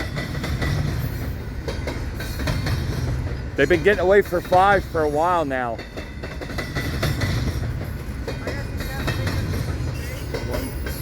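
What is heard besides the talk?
freight train passing with new Trinity Rail railcars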